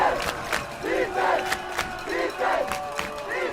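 A big crowd at a college football game between Trinity University and Wheaton (IL) roars and cheers loudly in pulsing swells, with shouts rising over the steady wash of noise.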